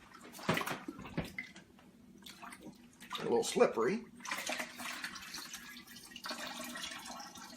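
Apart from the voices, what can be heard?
cured turkey placed in sink of cold water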